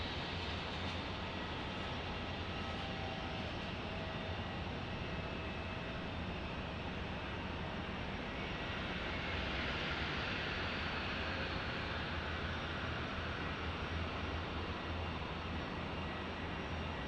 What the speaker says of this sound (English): E-175 landing here.